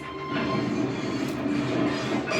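A Trackmaster model train runs fast and biffs into coaches in a toy coach yard, giving a close rumbling rattle of plastic wheels and cars with a few sharp knocks.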